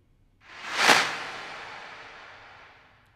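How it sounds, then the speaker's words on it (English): A big layered clap built in Logic Pro from an 808 kit with a reverse snare swells up, peaks in a bright, noisy crack, then trails off in a long airy tail. "So here we go, the full big clap."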